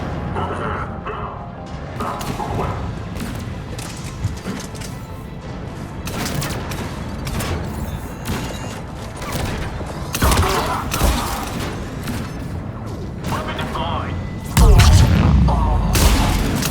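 Cannon artillery fire booms through a Mass Effect 3 battle, repeated heavy blasts and bursts over a dense, rumbling mechanical din, with a loud low impact near the end.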